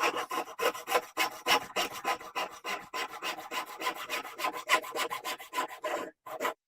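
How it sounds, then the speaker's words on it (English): A hand saw cutting the sides of a dovetail half lap joint in wood, heard close up as about two dozen quick, even back-and-forth rasping strokes that stop abruptly at the end. "So I've cut down the sides for the dovetail."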